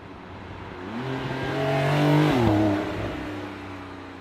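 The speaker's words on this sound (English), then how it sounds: "it's really loud in here. A lot of wind noise." Inside a Porsche 911 Targa 4S cruising at 100 km/h, a loud, steady rush of wind fills the cabin, while a tonal engine drone swells to a peak and then eases off.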